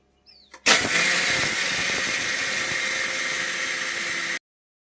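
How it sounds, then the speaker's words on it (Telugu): A kitchen mixer grinder grinding rice into flour, a loud steady motor whine starting abruptly after a brief small sound and running continuously for several seconds before cutting off sharply. "బియ్యం మిక్సీ వేసుకుందాం."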